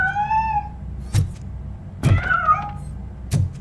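A cat meows in the RoboCop: Rogue City video game, with a clear, rising-and-falling meow at the start and a second, longer meow midway. Short sharp clicks or thuds fall between the meows, and no one speaks.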